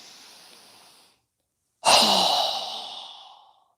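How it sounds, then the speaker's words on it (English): A single strong, forceful exhale during a yoga breathing exercise rushes out loud and close after a brief pause, fading over about a second and a half, with softer breath noise before it. "Strong exhale."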